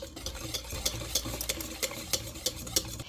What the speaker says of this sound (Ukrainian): І буду гарно перемішувати, щоб тісто стало однорідним.